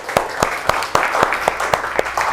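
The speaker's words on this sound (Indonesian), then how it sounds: "beri aplaus untuk kelompok 1" Applause from a classroom audience for a presenting student group: a short burst of sharp, fairly regular claps from a small crowd, close and lively, with faint voices underneath.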